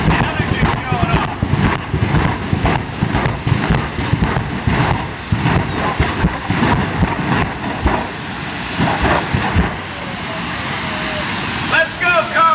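Jet dragster engines with afterburners spool up at a drag strip in Commerce, Georgia, producing a loud continuous roar with wind buffeting. An announcer talks over the noise throughout.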